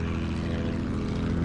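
A propeller plane engine in the Battlefield 1 video game drones steadily and loudly throughout, a continuous dense rumble with no breaks and no voices.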